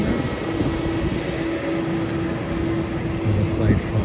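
A passenger plane arriving from Guangzhou lands at Melbourne Airport, its engines a steady, distant roar with a faint whine that holds for several seconds.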